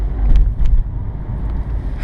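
A BMW F30 320i engine revs under the throttle, a loud, low rumbling roar that swells twice in quick surges and then settles to a steady drone.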